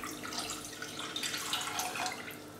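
A stream of water pours into a pan holding 250 g of sugar, making a steady, close, broadband splashing that runs for about three seconds without a break.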